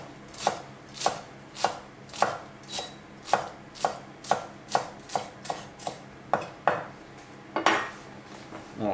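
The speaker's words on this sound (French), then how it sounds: "Et vous venez le ciseler comme ça grossièrement." Knife coarsely chopping fresh herbs, stems and all, on a cutting board in a home kitchen: a steady series of about sixteen crisp, close knocks at an even rhythm, with no talking.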